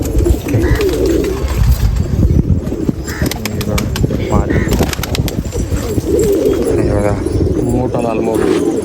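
Pigeons coo repeatedly against a busy, noisy background, with people talking nearby throughout.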